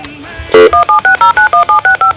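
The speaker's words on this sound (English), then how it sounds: "Let's get Julie, the Mate Doctor, on the phone" A rapid run of telephone keypad dialing tones, about ten short evenly spaced beeps following a brief lower tone, loud and close with no talk.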